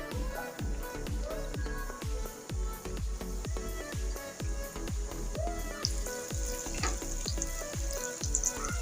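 Strips of nimki dough fry in heated oil over a raised flame, a close, bubbling sizzle punctuated by rapid, regular crackling pops throughout, fairly quiet with no voices.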